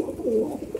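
A pet pigeon of the Madrasi breed coos once, a single soft close-up call standing alone with nothing else around it.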